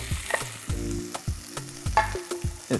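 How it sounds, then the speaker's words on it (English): Shaved corn and onions sizzle and caramelize in a pan as they are stirred, producing a crackling fry with repeated scraping strokes close by and no talk. "So you want to caramelize the onions a little bit and the corn"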